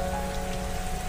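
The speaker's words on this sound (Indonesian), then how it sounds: "Malam itu, hujan turun dengan derasnya." Heavy rain pours steadily at night near a riverside village, a dense, even hiss of drops on surfaces with no pauses and no voices.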